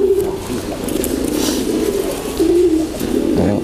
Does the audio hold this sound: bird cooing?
yes